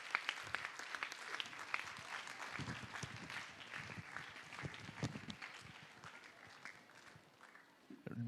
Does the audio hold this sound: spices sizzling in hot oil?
no